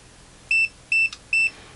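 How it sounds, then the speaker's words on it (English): A MUSTOOL MDS9208 multimeter's high voltage indicator sounds three short, clear electronic beeps, evenly spaced and close by, over near silence. "the threshold for that high voltage indicator, or the beeps you heard, comes on at around 24 volts"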